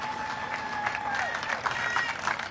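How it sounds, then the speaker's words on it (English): Crowd applause at a Little League World Series regional baseball game, a steady wash of clapping and cheering from the stands that carries on for a couple of seconds, with voices mixed in. "A good round of applause for need Timmy one Hitchcock."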